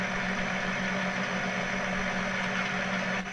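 A small tractor in a farming video game idles with a steady mid-pitched engine hum and light vibration, constant and unbroken throughout.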